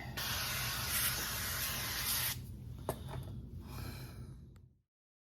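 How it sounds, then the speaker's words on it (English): A strong, steady hiss of olive oil from a spray bottle lasts about two seconds, then gives way to quieter rustling and a faint tap before silence. "I'm going to just spray the top with olive oil."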